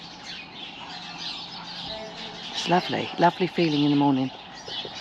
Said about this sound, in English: If you can hear all these birds in the background